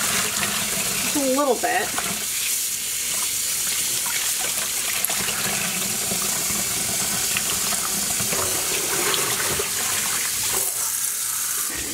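Tap water runs steadily to refill a pot used for fabric dyeing, a close, continuous gush, while a person talks briefly over it.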